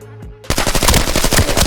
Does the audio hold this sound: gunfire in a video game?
yes